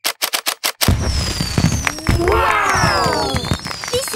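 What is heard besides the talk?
cartoon fireworks display for Chinese New Year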